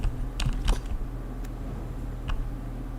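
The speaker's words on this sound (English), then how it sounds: "sounds of hearing someone's finger pressing keys" Fingers tap a computer keyboard in a handful of sharp, scattered keystrokes, close and distinct over a low steady hum.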